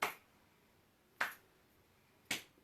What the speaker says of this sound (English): Oh, great big claps.